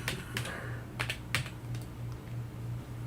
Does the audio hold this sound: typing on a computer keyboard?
yes